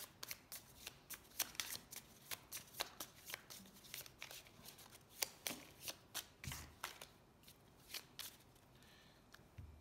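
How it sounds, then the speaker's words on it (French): Playing cards for a solo board game shuffled by hand nearby, a steady series of crisp riffling bursts repeating at a quick, even pace with no talking. "on remélange toutes les cartes"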